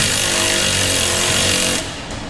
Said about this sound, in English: We'll run in this bolt.